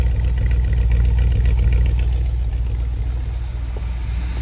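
A 327 V8 with an Edelbrock carburetor, in a 1964 Chevy Corvette or 1968 Pontiac GTO, idles after a cold start with a steady, loud, deep rumble throughout and no talking.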